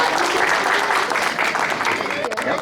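Loud, steady audience applause welcoming a speaker at an evening memorial programme for martyrs in Pathankot, dense clapping from a large crowd filling the whole stretch.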